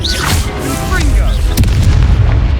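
A loud Confringo spell explosion during a duel in the video game Hogwarts Legacy, a deep booming blast with a whooshing burst and a sharp crack midway, under voices.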